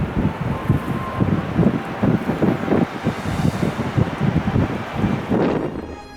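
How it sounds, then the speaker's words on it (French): Gusting wind at the cliff edge of a 315-metre-deep chasm at Fontaine-de-Vaucluse, buffeting the microphone in irregular low rumbling bursts, loud and close with no voices. "Il faut se méfier avec le vent."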